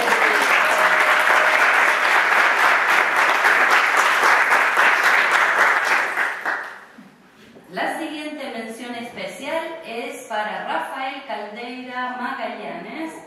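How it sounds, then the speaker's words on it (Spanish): Audience applause at a student prize ceremony at an international meeting: steady, dense clapping for about six seconds that fades out, followed by someone speaking over the room. "Un aplauso también."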